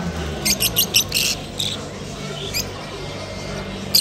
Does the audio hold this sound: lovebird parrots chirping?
yes